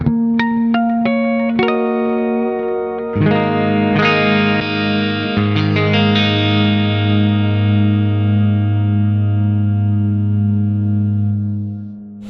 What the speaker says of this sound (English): I prefer delay more than reverb, and both of these work so wonderfully together in tandem